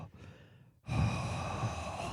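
A voice imitates loud, creepy breathing, first a quieter breath, then after a brief pause a long, heavy, close exhalation that holds strong to the end.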